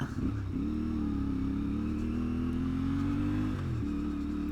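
CF Moto 450MT motorcycle ridden off-road on a rough track, with a close, loud, steady engine hum that shifts pitch as the throttle changes, no speech.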